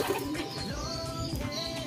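Racing pigeons cooing softly in a loft, low throaty coos repeating over a steady background hum, fairly close and at moderate level.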